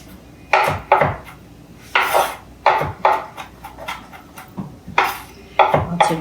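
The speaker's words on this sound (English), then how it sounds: "Just go back and forth with your knife, up and down with your knife here." A knife chops and minces ginger and garlic on a wooden board: a loose rhythm of sharp knocks and scrapes, close and fairly loud, with no talking.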